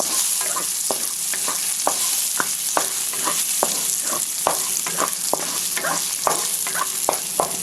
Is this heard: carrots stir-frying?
yes